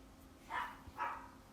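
A small dog yaps twice in the background, two short bursts about half a second apart, set against a steady low hum in a quiet room.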